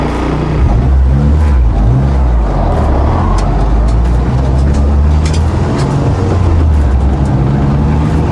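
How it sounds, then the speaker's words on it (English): Cars rush past on a road in a continuous loud drone of engines and tyres, with repeated whooshing surges as vehicles go by, heard from inside a moving, recently restored car. "there's a million cars coming past"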